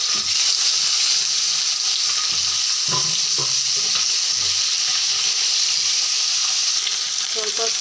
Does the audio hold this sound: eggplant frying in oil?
yes